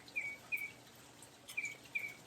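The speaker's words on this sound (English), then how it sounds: "I can hear a bird." A bird gives short, high chirps at irregular intervals, thin and fairly faint over a quiet outdoor hiss.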